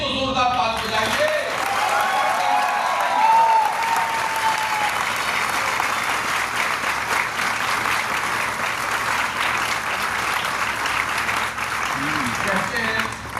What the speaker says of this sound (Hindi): अपने लिए तो जोरदार ताली बजाइए।